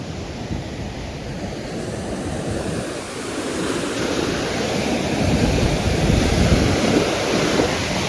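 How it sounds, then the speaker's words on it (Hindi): A fast-flowing river in flood in Kullu-Manali roars as a dense, continuous rush of water, loud and steady, swelling slightly toward the end, with no voices over it. "यहाँ पे तुम चेक कर सकते हो भाई नदी का फ्लो"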